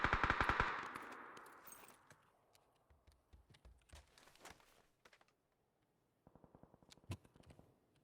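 Bursts of enemy gunfire in PUBG, a dense loud volley at the start followed by scattered sharper shots and short rattling bursts, with quieter gaps between them.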